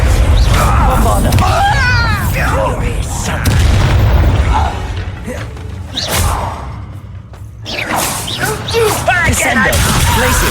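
The Bombarda blasting spell in Hogwarts Legacy, played on PS4 Pro, sets off a heavy booming explosion with whooshing spell effects and crashing debris, loud and sustained across combat, with a player's voice calling out spells over it.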